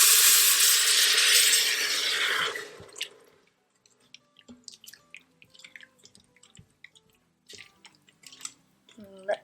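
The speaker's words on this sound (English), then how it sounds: "I'm gonna throw in a little water." Water pours loudly into a cooking pot for quinoa in a rushing stream for about two seconds, then gives way to scattered drips, light clinks and small kitchen noises.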